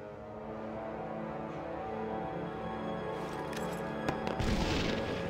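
Grenade explosions in an iPad shooter video game thump and boom over a steady bed of game music and ambience, with a louder burst near the end.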